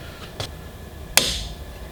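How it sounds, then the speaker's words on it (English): A hammer strikes a steel punch to drive a rivet out of an SKS rifle, giving a light tap followed by one sharp, ringing metallic hit that fades quickly, close and alone. "it's kind of hard to hit a rivet pretty hard with a hammer"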